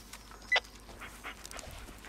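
Dog panting in the Blair Witch video game, a few soft quick breaths with one brief louder burst, close and fairly faint, with no talk.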